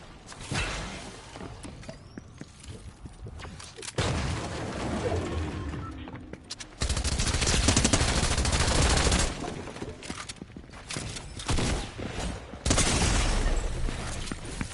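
Bursts of automatic gunfire from shooting in the video game Fortnite, dense rattling volleys with booming shots and brief gaps, loud and continuous across the stretch.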